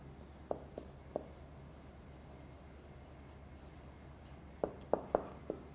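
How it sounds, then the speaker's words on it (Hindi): Faint marker-on-board writing strokes from a teacher during a lecture: a few short squeaky marks near the start, then a quick cluster of firmer strokes at the end, over a quiet room hum. "लिख भी देता हूँ।"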